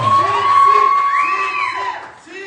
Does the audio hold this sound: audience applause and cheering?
yes